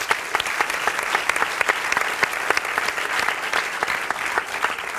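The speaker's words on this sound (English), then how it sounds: "Please join me in giving them a round of applause." An audience at a university panel event gives the speakers a loud, full round of applause. Crisp individual claps stand out within a steady wash of clapping that holds evenly throughout.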